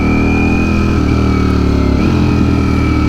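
Ducati Streetfighter V4 motorcycle engine running loud and close, a smooth steady growl with slight rises in pitch as it revs.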